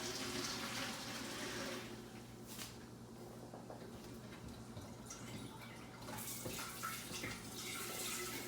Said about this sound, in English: We're going to drain this water, and then we're going to put the seeds on a cooking sheet.